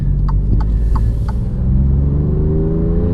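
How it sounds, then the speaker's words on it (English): Alfa Romeo Giulia Quadrifoglio engine blipping on downshifts, a loud, steady close-up rumble inside the car with brief rev flares over about three seconds. "there's little blips in the downshift"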